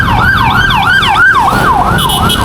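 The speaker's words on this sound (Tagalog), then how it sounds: "May bumbero guys. May bumberong dumadaan. Nagmamadali." A passing fire truck's loud, close siren wails in fast repeating up-and-down sweeps over a low rumble of engine and traffic.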